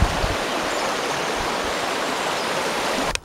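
A river flows steadily past a remote village, a continuous broadband wash of moving water heard up close and fairly loud, running alone with no voices for the whole stretch.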